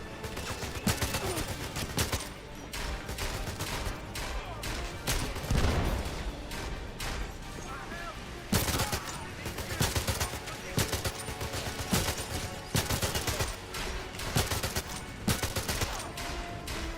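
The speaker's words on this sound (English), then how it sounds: "AK-47 with a grenade launcher, you know it." An AK-47 with a grenade launcher fired in 007 Legends, with repeated bursts of close, loud automatic gunfire in rapid rhythmic volleys over a busy combat background.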